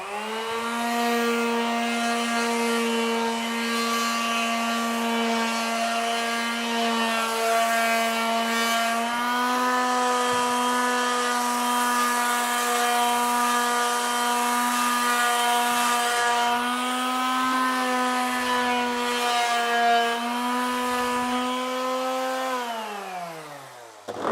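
Power sander working wood with 220-grit sandpaper while shaping and finishing a small table, a steady loud motor whine running continuously for the whole stretch, pitch drifting slightly and winding down at the end.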